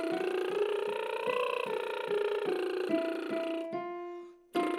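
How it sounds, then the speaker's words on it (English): A singer does a lip-buzzing warm-up, carrying a steady buzzy pitched tone through a rising and falling five-note scale. The sound is close and sustained, breaks off briefly near the end, then resumes. "I recommend you try the same 5-note exercise, but buzzing instead. Sounds like this."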